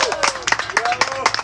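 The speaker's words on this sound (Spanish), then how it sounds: "¡Un aplauso para ustedes, mis amores!" An audience at a live broadcast with Bolivian friends claps in a burst of applause, sharp irregular hand claps close by while a voice talks over them.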